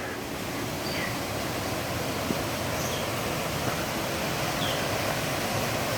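The Carbet waterfall in the misty Guadeloupe rainforest gives a steady, broadband roar of falling water, constant and unbroken, with no voices over it.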